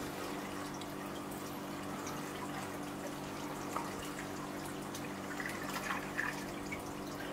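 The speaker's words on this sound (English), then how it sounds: "you can see the water stopping from the siphon" Water drains steadily from an aquaponics siphon, a quiet continuous rush and trickle with a few faint drips near the end.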